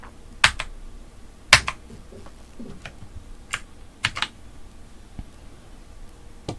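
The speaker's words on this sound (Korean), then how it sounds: "그리고 나서 Alt와 델리트 키를 눌러주세요." Sharp clicks of keys pressed on a computer keyboard, several distinct isolated taps spaced irregularly and close, with a quiet room in between.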